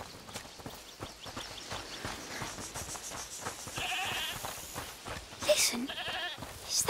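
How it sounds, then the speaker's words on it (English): A goat bleats in the video game A Plague Tale: Requiem, short nasal calls heard amid footsteps and ambient game sounds, moderately faint. "Is that the goat he talked about?"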